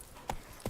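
Horse hooves clop in The Witcher 3 as the horse sets off, with two soft, brief hoof strikes about a third of a second apart over a quiet background.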